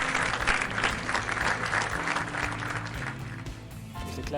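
A crowd applauds loudly, with dense, continuous clapping that thins out toward the end.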